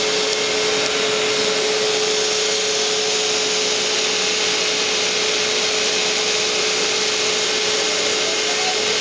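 A vacuum cleaner runs steadily and loudly throughout, a constant whining motor roar with no talk, used by a plumber to suck up debris.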